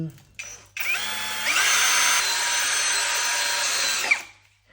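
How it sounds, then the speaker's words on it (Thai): A power drill with a steel bit bores holes into an electrical box: one close, loud, continuous whine lasting a few seconds, rising in pitch as it spins up, then stopping abruptly. "แล้วก็ตามด้วยเจาะรูบล็อกให้เรียบร้อย สว่านนี้ก็เป็นหัวเหล็กด้วยนะครับ"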